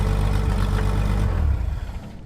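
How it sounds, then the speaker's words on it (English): The engine of a 1952 Chevrolet started from a newly installed dash switch, running as a loud, low, steady rumble up close that smooths out and starts to fade near the end. "It is nice being able to start the car from inside now."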